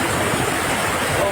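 Floodwater rushes over a spillway in a loud, continuous, broadband roar that stays steady and close from start to finish.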